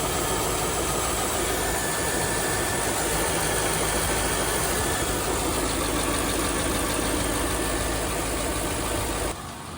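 A 2009 Porsche 911 Cabriolet or 2003 Corvette idles steadily and close, a continuous mid-pitched engine rumble with no voices.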